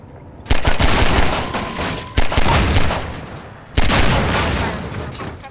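Gunfire in Half-Life 2 cracks out in three loud, abrupt bursts, each trailing off in ringing decay, with faint rapid shots between them.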